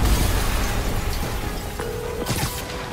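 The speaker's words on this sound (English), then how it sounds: "Yuri, an explosion just..." A loud explosion in the Spider-Man video game, a dense, rumbling blast of broadband noise that stays heavy throughout, with a brief tone and a crackling burst near the end.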